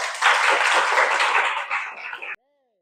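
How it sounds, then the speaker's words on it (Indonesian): A class of students claps their hands together in a dense burst of applause lasting about two seconds, with a few faint chuckles, before cutting off sharply to silence. "Tepuk tangan dong."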